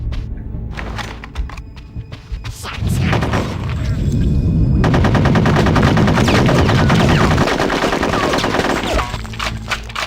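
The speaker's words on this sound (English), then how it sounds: "The shooting with the SMGs is more satisfying than the shotgun" SMG fire rattles in Conker's Bad Fur Day in long, loud, sustained bursts with booming impacts, then tapers off into scattered shots.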